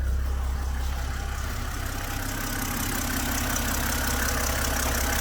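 A BMW N52 engine idling steadily and smoothly up close, a low even rumble with a faint rhythmic tick and no talking.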